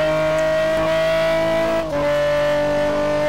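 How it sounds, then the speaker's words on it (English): Pagani Zonda race car engine at Road America's Moraine sweep, an extremely loud steady high-pitched drone with a brief dip as it lifts through the turn, close and alone. "John Ludden in the extremely loud Pagani Zonda comes into the Moraine sweep turn 5 turn"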